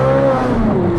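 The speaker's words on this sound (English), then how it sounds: "listen to that flat plane crank, naturally aspirated" Naturally aspirated flat-plane crank V8 of a Corvette Z06 revving steadily up close outdoors in the mountains, a loud continuous engine drone with a rising tone and no talk.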